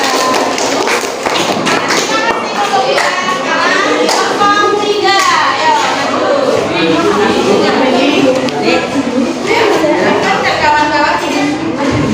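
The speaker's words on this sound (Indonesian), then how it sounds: "Berikan aplaus untuk kelompok 2." Applause for group 2 in a classroom fills the whole stretch with steady clapping, and children's voices and chatter run through it.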